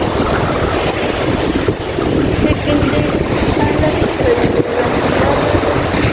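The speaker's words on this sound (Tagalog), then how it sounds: "malakas pa rin po ang simoy ng hangin. Ang pagaspas ng alon." Steady, loud wind buffeting the microphone over the continuous wash of ocean waves, a constant roar with no pauses.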